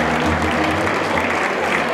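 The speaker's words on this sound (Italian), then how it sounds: "Ancora un bel applauso a Celeste Cordorelli." Audience applause at a women's award ceremony honouring a prize recipient, a dense continuous round of clapping, loud and close, with no talk over it.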